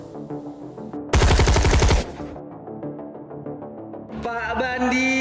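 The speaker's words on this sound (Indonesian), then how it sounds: "Peluru menembus kepalanya." A gunshot effect in an Indonesian historical war drama, heard as a loud rapid burst of automatic fire lasting about a second, standing out sharply against a tense musical score that continues around it.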